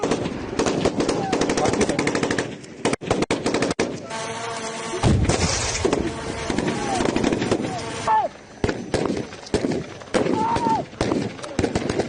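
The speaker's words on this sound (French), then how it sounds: "aux manœuvres et démonstrations de tir dans le théâtre des opérations" Machine gun fire at a military live-fire demonstration in Ituri, DR Congo, loud sustained bursts of rapid shots with echoing blasts, a brief lull midway, then more bursts and scattered single reports.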